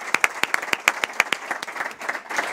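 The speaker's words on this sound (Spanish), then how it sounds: "Un aplauso para él, por favor." Audience applause at a university sports program presentation, a run of sharp, closely spaced claps that is fairly loud and close, then thins into scattered softer clapping toward the end.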